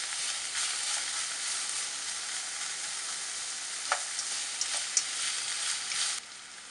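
Vegetables for a chicken quiche fry in a pan with a steady, close hiss, broken near the end by a few sharp crackles and pops; nobody speaks.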